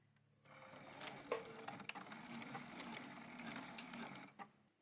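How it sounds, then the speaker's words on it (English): A sewing machine stitching around the sides of a small purse, a fast steady mechanical whir of needle strokes with a few louder clunks, running close and continuous for several seconds before stopping, no talking. "I'm going to go ahead and sew around the 3 sides of my small purse."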